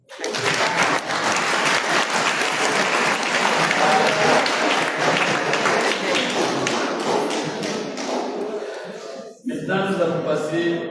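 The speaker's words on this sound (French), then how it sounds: "moi j'entends des applaudissements" Audience applause at the Indian Ocean HIV/AIDS colloquium in the Comoros: loud, dense clapping fills the hall without a break, then thins and gives way to a voice near the end.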